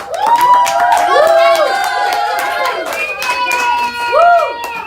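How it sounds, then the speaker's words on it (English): Audience at a public speaking school applauds a student speaker, with clapping and cheering voices and children shouting over a steady crowd roar; loud and close throughout. "Let's give a big round of applause to Mr. Caleb Adenuga."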